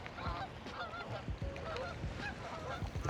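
Geese or ducks honk repeatedly by Lake Michigan, several overlapping calls close by against steady outdoor wind and ambient noise.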